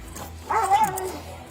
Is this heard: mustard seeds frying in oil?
no